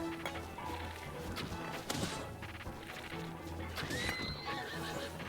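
A horse neighs in the video game Breath of the Wild, with steady clip-clop hooves and a few dull thwacks. A wavering whinny rises late, all fairly quiet within a busy game soundscape.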